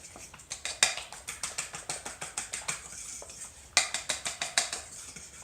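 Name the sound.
whisking flour into egg mix for veal parmesan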